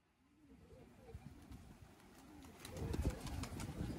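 Pigeons coo in soft, repeated low warbles close by, while a person talks and background noise grows louder.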